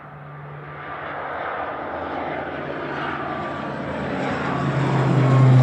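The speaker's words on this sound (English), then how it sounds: "Aer Lingus Regional departing now, heading to Dublin. This little ATR 72600 with flight 3327 EIGPM." An Aer Lingus Regional ATR 72-600 turboprop departing Manchester Airport for Dublin, with a propeller drone and steady hum holding a low tone and growing gradually louder and nearer, with no talk heard.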